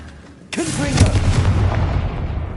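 A Confringo blasting spell from Hogwarts Legacy goes off with a sudden loud boom after a quiet half second, followed by a rumbling, crackling tail that slowly fades.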